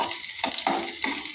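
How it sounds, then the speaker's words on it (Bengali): Garlic sizzling in hot oil in a pan while cooking prawns, a steady close crackling fry with brief louder bursts as the pieces are stirred, no voices. "রসুনগুলো একটু ভাজা হোক"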